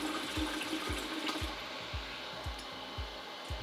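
Nitric acid poured onto a metal alloy in distilled water to dissolve gold and silver, giving a steady hiss with a rapid bubbling rumble and regular gurgling pulses, close and continuous with no talk.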